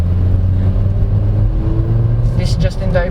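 A 2023 Volkswagen T-Cross SE accelerates in normal drive mode, its engine a steady low hum that rises smoothly under a voice talking over it from inside the cabin.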